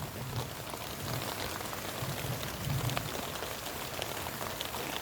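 Rain falls steadily outdoors during a harvest, an even, dense patter on surfaces with no voices.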